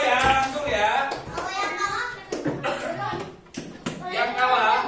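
Children in a classroom game clapping their hands in short rhythmic bursts, mixed with lively children's voices and chatter.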